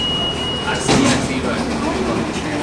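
New York subway train arriving at a Union Square station platform on a cold day, a loud rumbling rush with a sudden burst of noise and brake squeal partway through over continuous station din, with voices in the background.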